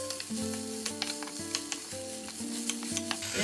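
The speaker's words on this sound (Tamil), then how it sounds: "இப்போ இதை எல்லாத்தையும் வந்து கலந்து விடணும்." Cooked thattai payaru (cowpeas) and thooyamalli rice being stirred in a hot pan, with a steady sizzle under repeated scraping strokes of a spoon, loud and close, no voices.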